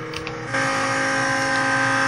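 A game engine for a yellow Lamborghini Gallardo in Roblox swells abruptly into a steady, loud high-pitched whine with layered harmonic tones, holding at full speed after a brief quieter start with a few clicks.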